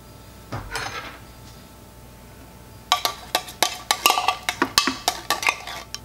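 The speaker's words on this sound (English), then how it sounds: "I'm going to mix together 1 can of golden mushroom soup with a cup of beef stock" A spoon or whisk clinks and scrapes against a bowl as canned golden mushroom soup is stirred into low-sodium beef stock, a brief knock early, then a steady run of sharp, rhythmic taps up close.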